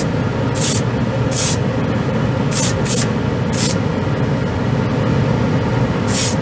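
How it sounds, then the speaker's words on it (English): Short hissing bursts of a Harder & Steenbeck Colani airbrush spraying paint, finely atomized, in repeated pulses over a loud, steady low rumble of background machinery. "It's atomizing the paint really, really well."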